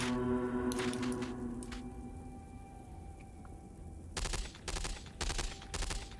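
Gunfire in the video game Falling Skies, during a Skitter hunt: a few scattered sharp shots early, then several rapid bursts of shots toward the end, over a steady background hum.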